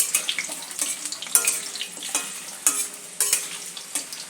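Potatoes and cauliflower fry in oil in a pan, light sizzling under repeated scraping stirs that come in steady bursts about every second, close and moderately loud, with no talking.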